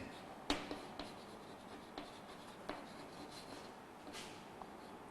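Chalk or marker scratching on a board in a classroom, a few sparse strokes and taps spaced across several seconds, quiet with faint room noise and no talking.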